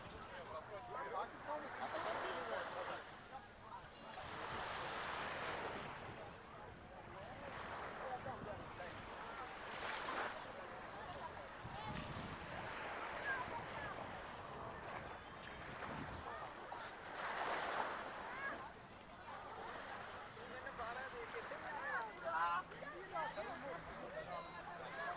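Sea waves wash onto a beach at Dubai Marina (JBR), a steady rolling surf with gusts of wind buffeting the microphone throughout, and distant voices faint in the background.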